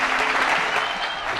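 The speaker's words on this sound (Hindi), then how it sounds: "जोरदार तालियों के साथ" Loud, dense applause from a large audience at an official ceremony in Uttar Pradesh, where the Prime Minister lays the foundation stone for the Ganga Expressway, steady and sustained throughout with no speech.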